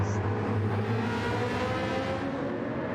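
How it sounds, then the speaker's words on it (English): The Suzuki VGT, an open-top racing car in a racing game, gives off a steady engine drone with a low hum and smooth whirring that holds level throughout. "I was just listening to the drone of the Suzuki VGT."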